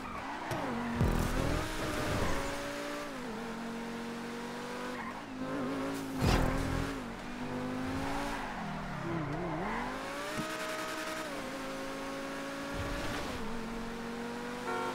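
Engines rev hard and tires squeal through continuous racing in GTA 5 Online stunt races with cars like the Pegassi and T20. The pitch rises and falls with gear shifts, and impact thumps are heard, with no talk over it.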